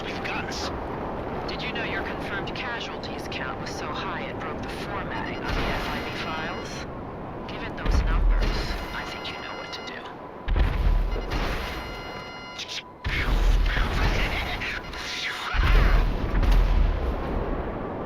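Missile launches and explosions in GTA 5 Online, several loud booming blasts around 8, 10.5, 13 and 15.5 seconds, heard between and under continuous game sounds and a talking voice.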